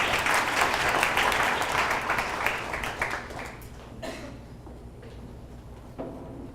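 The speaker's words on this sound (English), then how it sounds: "Let's get a round of applause." A meetup audience applauds the speaker, John, a dense burst of clapping that peaks at the start and gradually fades over several seconds, with a few scattered claps and faint rustling near the end.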